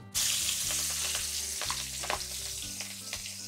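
Green chillies and onions frying in hot oil for egg pulao, with a bright steady sizzle and a few stirring clinks, under background music.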